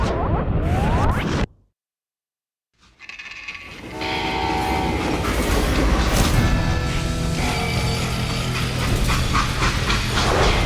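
Freight train rolling along a track in the video game Call of Juarez: Gunslinger, a steady loud rumble with clanking wagons and a brief horn, after a short silent gap near the start.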